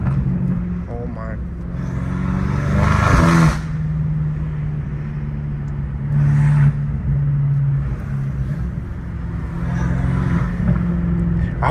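A BMW M5 Competition with a turbocharged engine revs in bursts, its low throbbing note swelling and fading, while someone talks over it for much of the time.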